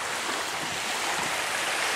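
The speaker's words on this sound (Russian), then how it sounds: "А вода как шумит" Steady, dense rush of water roaring continuously, like a nearby stream or cascade near the Volga, Usovsky Island, with no talking.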